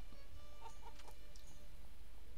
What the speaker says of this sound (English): let the chicken out while I'm here